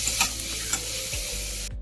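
Onions sauté in hot oil with asafoetida, curry leaves and salt for Karnataka tomato gojju, giving a steady close sizzle with a few spatula scrapes and stirs before the sound cuts off abruptly.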